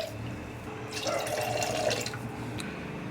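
Water, about one and a half glasses, pours into a pressure cooker over washed toor dal, a close splashing rush lasting roughly a second before settling back to quiet.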